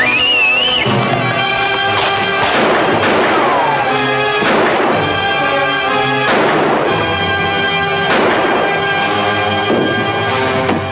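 Gunshots in a 1948 western film: a string of loud, echoing shots spaced a second or two apart, each trailing off under a continuous dramatic orchestral score, with no talking.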